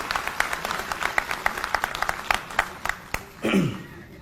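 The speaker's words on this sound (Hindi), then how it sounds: "तो एक बार जोरदार तालियां हमारे सभी युवा और बुजुर्ग साथियों के लिए।" Scattered applause from an audience at a political speech by a Bahujan Samaj Party leader, sharp individual claps in an irregular patter, moderately distant, with a brief voice breaking in near the end.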